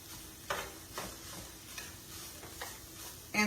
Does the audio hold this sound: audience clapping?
no